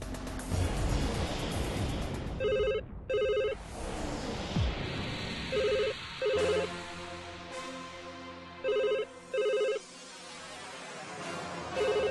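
Mobile phone ringtone chiming in repeated short bursts, a bright tonal pattern pulsing several times over a steady surf-like background hiss, with a brief low thump partway through.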